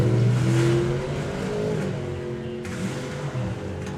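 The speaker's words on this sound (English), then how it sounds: "As the car rolls forwards" A drag racing car rolls forward at the start line of a Summer Nationals meet, its engine holding a steady, loud low drone with slight rises in pitch, heard alone without talk.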